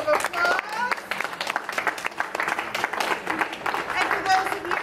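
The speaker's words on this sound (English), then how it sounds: "give yourselves another round of applause" Audience at an open mic night claps in a loose, uneven burst, hands patting at varying strength close by, mixed with chatter and voices talking over it throughout.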